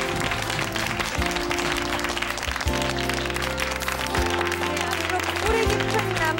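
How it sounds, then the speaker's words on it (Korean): An audience claps steadily at a traditional Korean Namsadang folk performance experience, the applause dense and continuous under recurring low tones and a presenter's voice. "박수 한번 부탁드립니다."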